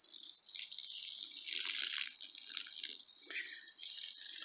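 Water running from an outdoor garden faucet, a steady hissing gush with light splashing and rattling, close and moderately quiet.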